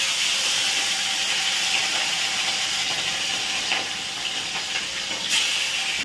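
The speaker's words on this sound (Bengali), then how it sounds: "মাছটা তেলের মধ্যে দিই," Fish fries in hot oil for a breakfast alongside boiled potatoes, giving off a constant close sizzling hiss with small crackles and pops scattered through it.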